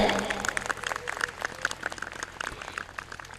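Applause from a crowd at an official felicitation ceremony during a social reform campaign event in Gopalganj, a moderate patter of clapping that starts stronger and thins slightly, heard from some distance with no speech over it.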